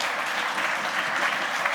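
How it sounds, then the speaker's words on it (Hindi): A live audience at a poetry recital in London applauds, dense steady clapping that fills the whole moment with no speech over it. "अब्दुल साहब, आपको ये तालियां बता रही होंगी कि ये कितना खूबसूरत शायर है।"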